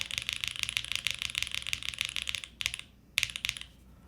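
Fast, steady typing on an RE65 mechanical keyboard, close and crisp clacky keystrokes in a continuous run with two short pauses near the end.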